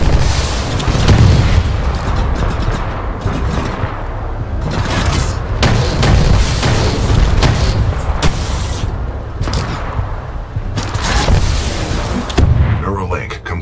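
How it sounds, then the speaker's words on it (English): In Titanfall 2, a shoulder-mounted Acolyte rocket pod fires volleys, producing repeated heavy booms and explosions in rapid clusters, loud and close, with brief gaps between bursts and a voice speaking at times. "This shoulder-mounted rocket pod will lock onto multiple enemy targets."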